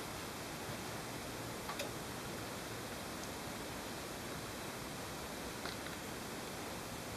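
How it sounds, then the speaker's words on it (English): Red Nozzle alcohol stove burning under a pot, a steady soft hissing rush with a couple of faint ticks, quiet and continuous with no voices. "So here we go, the stove is going well now."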